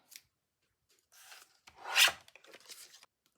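Scissors trimming paper for a collage, with a few short cutting rasps and one louder snip in the middle, close and quiet, with no talking.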